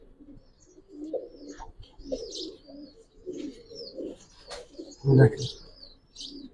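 Giribaz silver pigeons coo in soft low rolling phrases, close by, along with scattered chirps and a sharper burst near the end, while someone talks intermittently over them.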